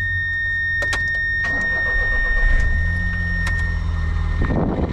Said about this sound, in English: Now let's start the Domingo, see how it sounds, see how it runs.